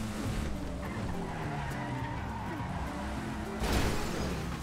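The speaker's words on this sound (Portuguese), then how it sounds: "O carro bate todo doido ali, ó." A car in GTA V Online screeches into a long skid with squealing tires over engine roar, then a sharp burst of impact noise near the end, close and loud.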